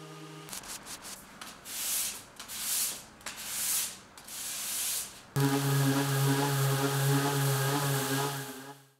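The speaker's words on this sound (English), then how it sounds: "And then after some more sanding" A wooden tabletop edge is sanded during a desk build: several rhythmic hand-like rubbing strokes come first, then a loud continuous humming power sander takes over for the rest.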